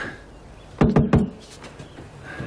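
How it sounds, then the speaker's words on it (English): Three quick knocks on a door, sharp and fairly close, follow one another in a tight burst, then fade into quiet room sound with no one speaking. "Knock again."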